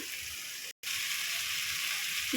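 Water spinach (kalmi shak) fries gently in a pan over low heat, giving a steady soft sizzle with one brief dropout, faint and close, with no talk.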